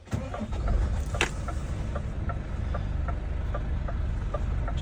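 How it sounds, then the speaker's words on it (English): A Scania truck engine starting from inside the cab: a cranking burst that catches into a steady, low, rumbling idle with a faint ticking pattern, heard alone without talking. "So I'm just gonna start this up, and you just listen to how it sounds."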